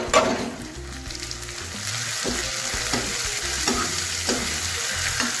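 Ginger, green chili and garlic paste fry in a pan for Punjabi-style kadhi pakora, giving a steady, close sizzle with scraping stirs throughout and no talking.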